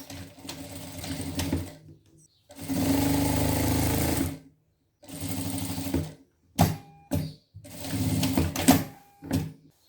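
A sewing machine stitches a dress lining in several separate runs: a couple of longer whirring bursts, then shorter stop-start spurts, each with a quiet pause between.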